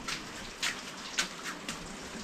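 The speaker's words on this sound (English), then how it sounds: "We have proper rain," Steady rain falls outdoors in a dense, even hiss, broken by a few soft, brief splashes or drips standing out at intervals.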